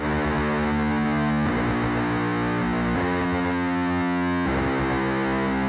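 Distorted electric guitar chords through an amp simulator ring out in four sustained strums about a second and a half apart, thick and saturated, with no voices.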